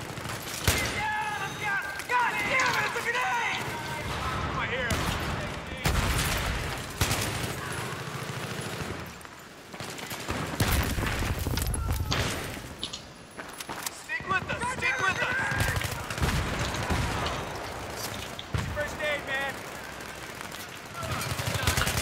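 AK-74M rifle bursts in the first-person shooter Battlefield 3, on the Canals map during a team deathmatch: repeated rapid automatic fire and clattering shots run through the whole stretch, mixed with someone talking over the game.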